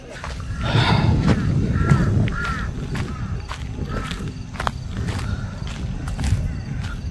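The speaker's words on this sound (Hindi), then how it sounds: "कौवे की आवाज इतनी डरावनी लग सकती है, कभी सोचा नहीं था।" Crows cawing around an abandoned, derelict hospital building: a few short, harsh caws early on at middle distance, mixed with footsteps and rustling nearby.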